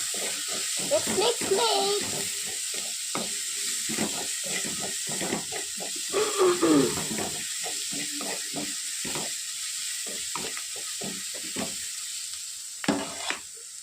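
Chicken for chicken sukka fries in a pan with a steady, even sizzle and hiss, while a person talks over it.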